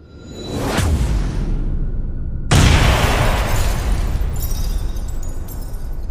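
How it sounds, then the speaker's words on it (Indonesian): Two heavy explosion effects in a dramatized story, an energy blast striking a spiritual barrier: a first burst swells near the start, then a louder, sharper boom hits and roars on as a long rumbling tail with scattered debris crackle. "Ledakan terakhir dari Ares menghantam barisan pelindung terakhir Niskalapura"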